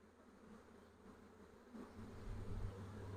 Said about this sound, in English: That's quite a lot of bees for a swarm.